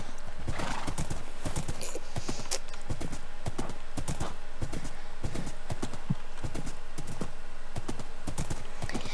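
Horse hooves clip-clopping in the Minecraft video game, a loud, steady run of sharp hoof clops repeating throughout without pause.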